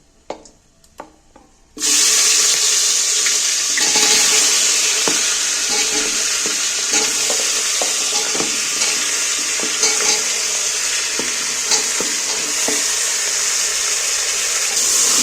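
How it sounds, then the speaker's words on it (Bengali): After a quiet moment with a few light knocks, marinated green jackfruit drops into hot oil and a loud, sudden sizzle bursts up, then holds steady and close with scraping stir strokes throughout. "এইবার আমি এই যে ম্যাগনেট করা এঁচড়টা এইবার আমি তেলের মধ্যে তুলে দিচ্ছি"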